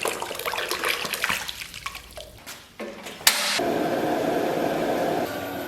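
Pork ribs blanch in a pot of boiling water with a splash of cooking wine. Uneven bubbling and trickling gives way abruptly to a louder, steady rushing boil, with no voices.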